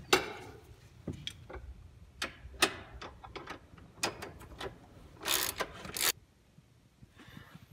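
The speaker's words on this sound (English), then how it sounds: "Then we'll finish removing these two bolts." Bolts being removed from a Corvette magnetic damper suspension: a quiet series of irregular metallic ticks, clicks and ratcheting taps close by, with short pauses between bursts and no talking.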